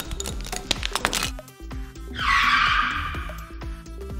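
A car skidding sound effect: a sustained tire screech of about a second rises sharply after a busy stretch of music-like tones, then fades back under the ongoing background.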